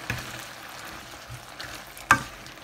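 Shrimp stir-fried with holy basil leaves and chili in a pan, giving a low, faint sizzle with soft scraping stirs and one sharper clank of the spatula near the end.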